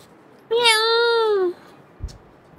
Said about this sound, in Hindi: और आ चुकी है हमारी बिल्ली।